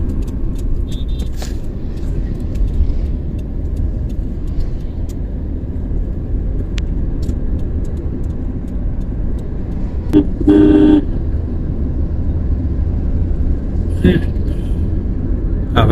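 A car sits in a traffic jam at Elenga on a dark, cloudy afternoon drive, with a constant low engine and road rumble inside the car and a couple of short horn toots from nearby vehicles.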